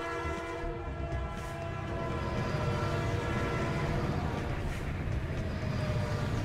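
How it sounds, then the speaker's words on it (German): Trains rush past in a video game, a continuous loud rumble with clattering wheels and a sustained horn tone that holds throughout and grows slightly stronger midway, with no talk. "Oh, wie viele Züge kommen denn jetzt, sag mal?"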